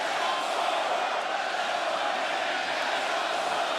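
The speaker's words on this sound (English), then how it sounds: "The fans have picked their favorite. You hear them chanting it." Capacity arena crowd at an AEW wrestling cage match in Chicago, a steady, broad roar of massed voices chanting together, even and continuous without breaks.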